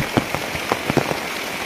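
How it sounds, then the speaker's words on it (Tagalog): Heavy rain pours steadily on a surface, a dense even hiss with a few louder drop impacts scattered through it, close and fairly loud, with no voices. "Kay ulan naman gyud, kusog kayo ang ulan"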